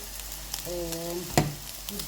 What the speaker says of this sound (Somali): digaageena wakaas inoo shiilmay